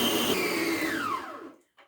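Electric mixer whipping buttercream at fairly high speed, a steady close whirring motor drone with a gliding pitch that holds for under two seconds, then cuts off abruptly into near silence.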